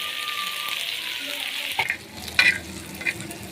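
Chicken liver tikka frying in a pan, a steady close sizzle with a few sharp clinks and scrapes of a utensil stirring partway through, no voices.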